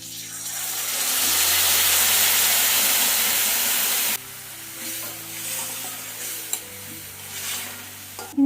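Tamarind water poured into a pan of green chilli pickle, setting off a loud rushing sizzle that dies back abruptly to a softer simmer with a few spoon knocks.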